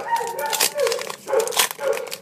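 A dog barks in a repeated, fairly close series of short barks, about four in rhythm, indoors while an item is unboxed.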